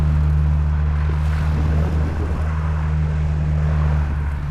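A plane's engine runs steadily and loudly up close, a deep sustained drone with strong low harmonics and broadband roar holding constant throughout.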